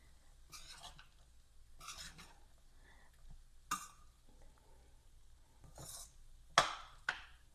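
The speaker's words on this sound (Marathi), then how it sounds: "आणि हे आता आपण छान असं मिक्स करायचं आहे" Sabudana khichdi being stirred and mixed in a pan, a spoon scraping and clinking against the metal in several separate, fairly faint strokes with quiet pauses between them.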